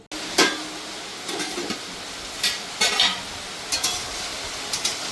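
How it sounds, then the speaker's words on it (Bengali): Chicken kadai masala sautéing in a pan, a low sizzle broken by repeated spatula scrapes and clanks against the pan at irregular intervals. "ভালো করে মশলাটাকে আমি একদম কষিয়ে নেব"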